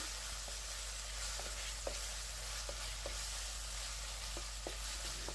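Spices with coriander paste frying in a pan for a chicken curry, a soft steady sizzle with several light spatula taps scattered through, fairly quiet and without voices.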